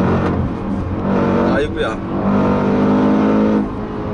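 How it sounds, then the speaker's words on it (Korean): A Range Rover Sport SVR's supercharged 5.0-litre engine revs loudly through a downshift at speed, with a brief exclaiming voice over the deep, rising engine roar. "엔진 소리 들으려고 자꾸 시프트 다운 하게 되는데요."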